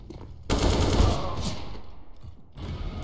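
A decoy grenade in Counter-Strike: GO imitates gunfire with a sudden, loud rapid burst of shots lasting about two seconds, then a short pause before another burst begins.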